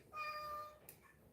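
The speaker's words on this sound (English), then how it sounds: "What are you meowing about?" A pet cat gives one soft, drawn-out meow in a quiet indoor room, faint and close.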